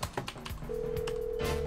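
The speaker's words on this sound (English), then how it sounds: "Doesn't like making phone calls underwater." In GTA Online, a phone is dialed underwater, giving a quick run of keypad taps followed by a steady, sustained dialing tone, heard alone and fairly close.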